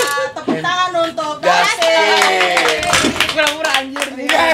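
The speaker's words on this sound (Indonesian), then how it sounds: "Tepuk tangan untuk" Hands clap in an indoor group setting while voices talk loudly and tonally over them. The quick, scattered claps come through mostly in the second half, partly masked by the chatter.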